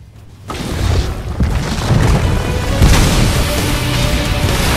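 A table flip attack in the Roblox-style fighting game Strongest Battlegrounds lands as a loud, broad crashing boom that swells after a brief quiet start and rumbles on for several seconds.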